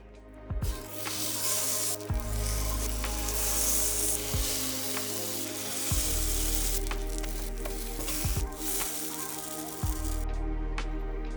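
Food sizzles steadily in a hot pan, with bright crackling spatter and occasional low thumps and scrapes as it is stirred.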